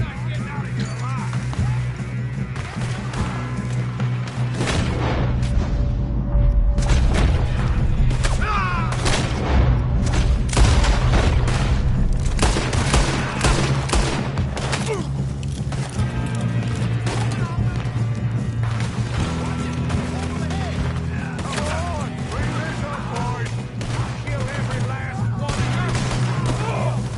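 Dense, loud gunfire from a Red Dead Redemption 2 shootout rattles on for the whole stretch, with sharp shots and heavier booms packed together over a steady low rumble.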